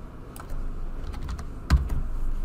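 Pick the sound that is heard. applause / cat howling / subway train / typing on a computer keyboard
typing on a computer keyboard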